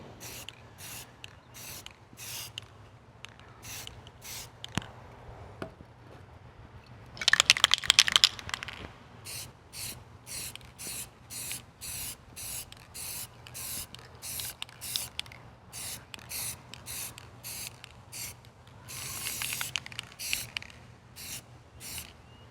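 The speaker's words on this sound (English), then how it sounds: "And don't forget to spray that chain." Short hissing bursts of an aerosol spray paint can repeat in rhythm as a chain is painted, with one longer, louder spray partway through and a few quiet clicks between.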